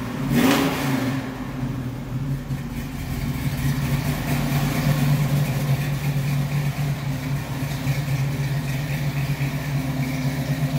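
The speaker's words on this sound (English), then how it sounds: "That's a cold start" A 1969 Camaro SS 396 V8 with a 4-speed on a cold start: a loud blip of revs at the start, then a steady, rumbling idle that carries on close by.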